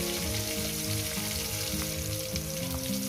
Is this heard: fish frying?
yes